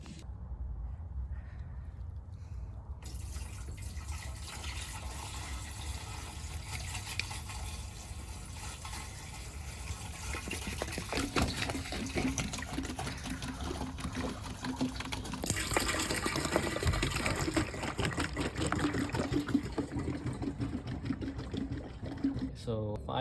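Water runs steadily into a fuel tank from a 1994 Toyota MR2 being filled with white vinegar and water, a continuous rushing pour that grows louder and fuller partway through.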